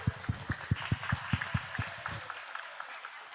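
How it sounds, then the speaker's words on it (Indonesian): Audience clapping at a primary school graduation ceremony, a short burst of sharp claps that fades out quickly into a reverberant hall. "Aplaus dulu."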